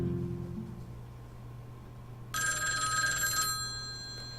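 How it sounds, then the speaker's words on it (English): A telephone rings in the visual novel A Sky Full of Stars: a bright electronic ring bursts in partway through over quiet background music, with no voices. "That night, I got a phone call from Hikari"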